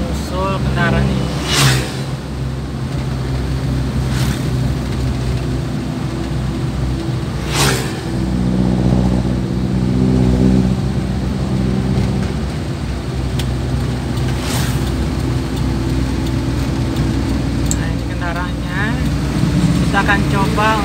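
Vehicle engine drones steadily while passing a convoy of trucks on a village road in Pulau Petak district, with a constant loud rumble and brief horn-like or passing whooshes throughout, and a voice speaking over it.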